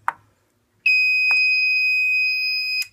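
A mass notification fire alarm panel sounds during a system test, a loud steady two-tone electronic alarm tone that starts abruptly after a short click and holds for about two seconds, with mechanical clicks at the start and middle.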